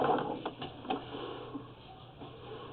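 Sewer jetter nozzle running inside a drain pipe, with a muffled steady wash and irregular ticking and rattling knocks against the pipe walls, no voices.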